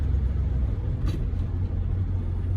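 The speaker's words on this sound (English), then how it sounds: "Look how nice those idles. Idle's great." Idling V8 engine of a 1973 Plymouth Fury, a steady, close, deep rumbling thump with an even rhythm and no voices.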